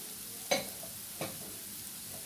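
Carrot and beans frying in a pan are stirred twice, each stir a short scraping swish over a faint, steady sizzle.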